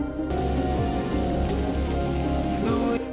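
Rain falls in a night scene from the Indonesian film Dear David, a dense, steady patter on surfaces heard close and evenly throughout.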